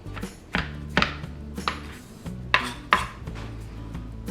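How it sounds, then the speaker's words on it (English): A knife chops fresh cilantro with its small stems on a cutting board, giving sharp irregular knocks close by, about eight distinct strikes with quiet gaps. "Just chop that up."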